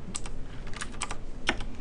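Typing on a computer keyboard into a Unity developer console: quick, close clicky keystrokes in short irregular bursts, with no voices.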